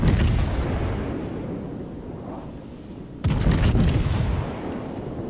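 Battleship turrets firing in World of Warships, heavy rumbling cannon booms with a fresh loud salvo bursting in partway through over sustained low battle roar.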